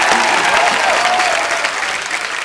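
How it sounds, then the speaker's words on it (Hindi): Studio audience at a comedy show breaking into strong, dense applause, a loud continuous roar of clapping that holds steady throughout with a faint voice tone riding above it. "जोरदार तालियां मेरे लिए।"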